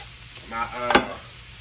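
Cauliflower is stirred in a hot pan, making a brief scraping stir with a soft sizzle and one sharp clatter near the middle.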